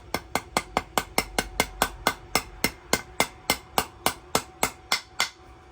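Rapid, evenly spaced metallic taps, about twenty in a row, sharp and close, as a socket taps a reinforced oil filter housing valve into a BMW E46.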